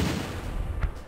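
Gunfire in the tactical war game Battle Academy: a dense, low rumbling volley of shots with one sharper burst near the end, steady and fairly loud throughout.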